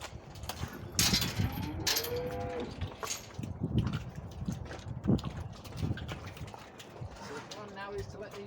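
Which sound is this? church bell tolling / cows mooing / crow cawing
cows mooing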